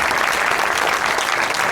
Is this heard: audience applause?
yes